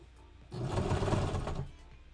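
A sewing machine stitches a mustard-colored suit in one short, steady whirring run that rises, holds for about a second and then stops, close and moderately quiet.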